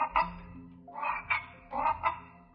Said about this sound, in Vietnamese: Hai chú ếch nhỏ kêu nhẹ mấy tiếng rồi đồng loạt nhảy về một bụi cây cạnh hồ nước ở phía xa xa.